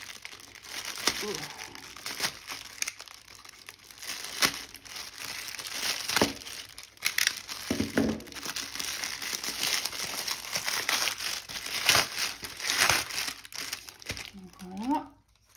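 Crinkling and tearing of plastic packaging as an AliExpress parcel is opened, continuous rustling close up with people talking over it.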